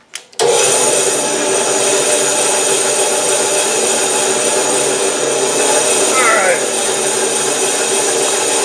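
A bandsaw cuts boards from a wooden log, a loud, continuous whining rasp that starts abruptly after a brief knock and holds steady, with a faint squeak near the end.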